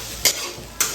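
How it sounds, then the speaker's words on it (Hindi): Spice mix and rice for egg fried rice stir-fried in a pan: a soft steady sizzle broken by two quick, sharp scrapes of the spatula. "अच्छा से मसाला को भून लेंगे"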